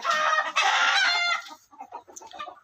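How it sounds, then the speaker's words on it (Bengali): A broody hen sitting on duck eggs clucks loudly and repeatedly up close, a sustained squawking burst followed by softer, broken clucks. "এই যে আর একটা মুরগি হাঁসের ডিম নিয়ে বসছে এই চিল্লাস না"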